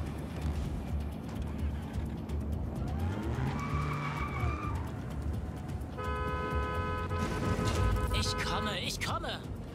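A vehicle in the open-world video game Just Cause 4 drives with a steady engine drone and skids, with tire squeals and horn-like tones sounding over continuous game noise while someone talks.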